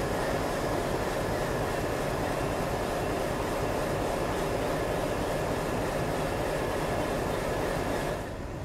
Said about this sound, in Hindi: लोकोमोटिव देखिए WDM 3D मालदा शेड का। जिनको डीजल लोकोमोटिव पसंद है उनके लिए तो ये साउंड जन्नत है।